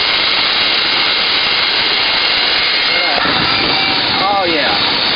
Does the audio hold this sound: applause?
no